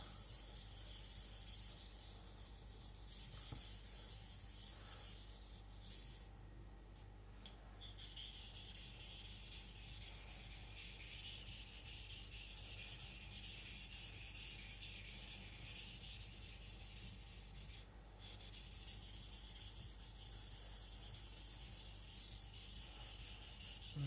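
A knife blade is polished and blended on a sharpening stone under light pressure, a soft continuous rubbing and scraping with steady back-and-forth strokes and a few brief pauses, close but quiet, with no talk.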